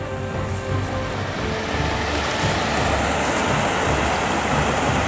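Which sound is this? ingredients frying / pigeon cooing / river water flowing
river water flowing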